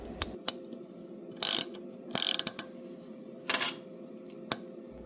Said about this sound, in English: Now we can't forget to tighten the sprocket nut.